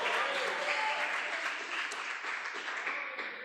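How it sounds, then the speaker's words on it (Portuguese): Congregation clapping loudly during a Portuguese-language church sermon, a sustained dense patter of many hands with voices mixed faintly in the background, tapering slightly near the end. "Vamos aplaudir bem forte a Deus."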